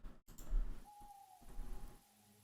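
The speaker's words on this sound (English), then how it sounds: "that kind of like bird call there at the beginning" An owl-like bird call, a soft hoot and a thin rising whistle, opens a song, heard quietly near the start over a low musical bed.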